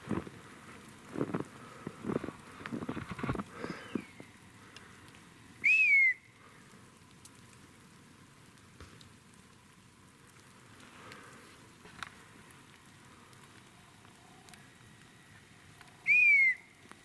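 Two separate whistles ring out about ten seconds apart in hushed woods, with some soft tapping and patter early on.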